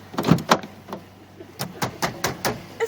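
A car door on a new car is unlocked and opened, giving a series of sharp, close clicks and thumps spaced irregularly over a few seconds.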